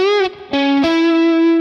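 A guitar plays a short lick from the solo of a song, with a few quick bent and pulled-off notes ending on a held tone, loud and close.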